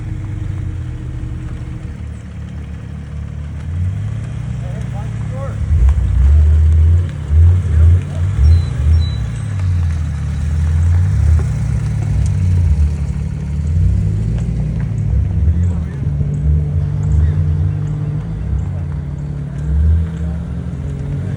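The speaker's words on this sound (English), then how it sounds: "We had another Carrera S that just pulled in." Porsche Carrera S and 996 GT3 sports cars roll into a cars-and-coffee meet, their engines droning and rising in several revving surges over a steady outdoor background.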